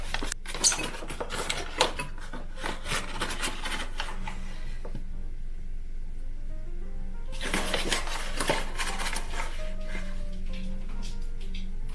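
A spoon scrapes and stirs a grated potato mixture with flour in a bowl, rough rubbing strokes with light clinks and a brief pause midway, close and fairly quiet.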